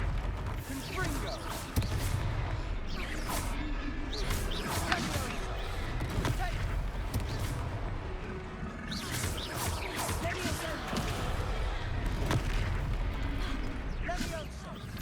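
Repeated Confringo fire-spell explosions in the Hogwarts Legacy video game: booming bursts every few seconds over a dense, continuous bed of game sound.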